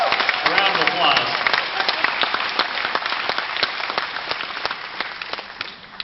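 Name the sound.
applause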